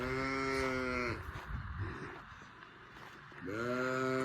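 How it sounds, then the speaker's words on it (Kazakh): Cows being driven along low, drawn-out moos, two clear calls near and loud, one at the start and one at the end, with rustling movement between. "Таңшалармен туған сиырларды айдап әкеліп тұр."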